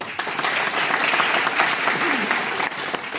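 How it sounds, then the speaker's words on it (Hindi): A crowd at a business seminar in Delhi applauds an army veteran, producing a full, sustained round of clapping at steady volume with faint voices mixed in. "मैं चाहूंगा राधेश्याम शर्मा जी की एक ताली होनी चाहिए।"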